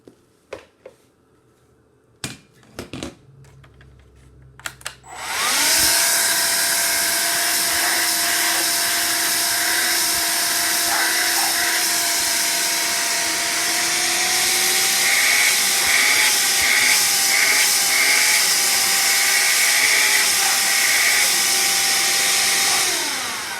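Hoover Air Cordless Lift vacuum cleaner switching on after a few quiet clicks, then a loud steady motor whine that rises slightly in pitch partway through, running alone without talk.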